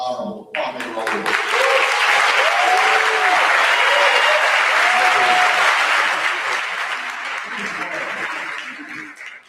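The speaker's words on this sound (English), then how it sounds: "Please welcome, give a round of applause to our Honorable Attorney General, the Honorable Kwame Rowley." Applause fills a state house chamber as guests are welcomed onto the floor, with loud sustained clapping from a large audience, murmured voices and a few chuckles underneath, before it slowly thins out.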